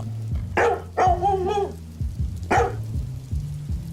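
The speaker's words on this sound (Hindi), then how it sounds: "तभी उसका कुत्ता जान जोर जोर से भौंकने लगा।" A dog barks loudly several times in quick bursts, close by, over a low steady hum with a patter like rain in the background.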